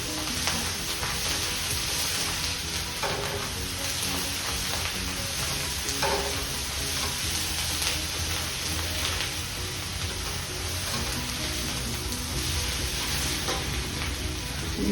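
Onions fry in a pan for a beans and dry fish curry, giving a steady close sizzle with occasional stirring scrapes and no talking.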